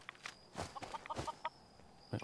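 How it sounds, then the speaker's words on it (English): Chickens in Fallout 4 cluck in a quick run of short, fairly quiet calls over soft outdoor game ambience. "It is a chicken. There's chickens."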